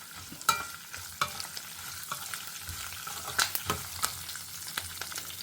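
Curry leaves sizzle in a frying pan, a soft steady crackle punctuated by sharp spatters and the scraping clicks of a spoon stirring, close and alone.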